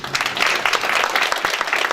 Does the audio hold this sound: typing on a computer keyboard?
no